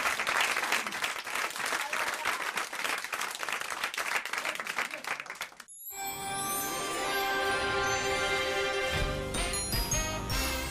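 A studio audience applauds on a French radio comedy show, dense clapping for several seconds that breaks off abruptly and gives way to a music jingle.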